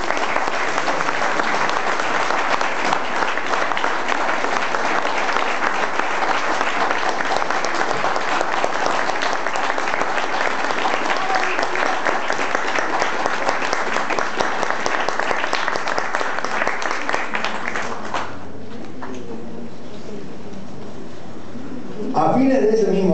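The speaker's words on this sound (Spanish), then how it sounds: "Pido un aplauso para ellos." A large audience at a televised Spanish-language news program about Latin American politics bursts into sustained applause, a dense and steady clapping that fills about eighteen seconds before fading.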